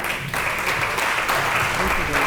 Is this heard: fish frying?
no